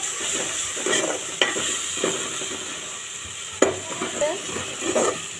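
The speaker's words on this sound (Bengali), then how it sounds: "দেখো আমি পেঁয়াজগুলো এখানে সব ভাজে নিব, সাথে এই আদা কুচিগুলো দিয়ে দিব। একটু লাল লাল করে ভাজে নেব।" Onions and chopped ginger fry in a pan with a steady background sizzle, broken by several sharp clinks and scrapes of a utensil stirring against the pan at irregular intervals.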